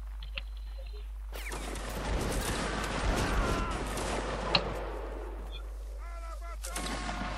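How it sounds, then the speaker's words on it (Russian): Musket gunfire at a historical reenactment drill, with a ragged string of loud, echoing shots fired at will across several seconds, some distant, amid faint shouting outdoors. "Француз, стрельба по готовности."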